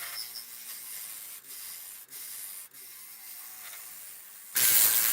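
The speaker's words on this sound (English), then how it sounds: "What you're seeing me doing through most of my cuts here with this 3/8 inch gouge is doing pull cuts." Pull cuts with a 3/8 inch gouge on a wood lathe give a steady close scraping rub, broken by three brief dips. A much louder, harsher burst of noise comes in for the last half second.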